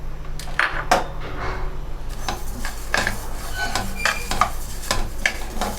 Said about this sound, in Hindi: जल्दी जल्दी से चम्मच चलाना